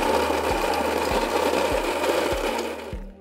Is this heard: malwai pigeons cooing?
no